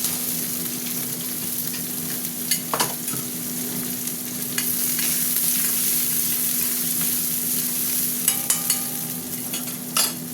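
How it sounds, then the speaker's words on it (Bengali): Onions frying with panch phoron spices in a pan, a continuous close sizzle with occasional spatula stirs and scrapes, steady and moderately loud with a faint background hum. "পেঁয়াজটা ভাজা ভাজা হয়ে এসছে"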